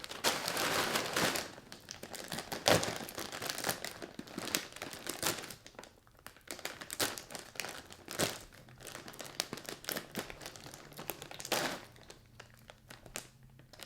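Crinkling and rustling of a resealable Oat Blenders Honey and Almonds cereal bag, close and continuous with sharper crackling bursts, easing into quieter handling toward the end.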